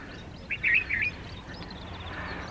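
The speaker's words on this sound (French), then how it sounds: "À part le chant des oiseaux, ça me dérange pas du tout." Birds sing near Savitri Temple in India, a few bright chirps and short warbling calls standing out against a quiet, faintly hissing hilltop background.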